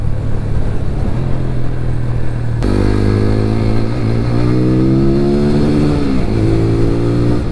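A TVS Apache RTR 200 4V Race Edition motorcycle engine idles, then revs hard through rising pitch sweeps, with a brief dip and another climb, loud and close with no voices.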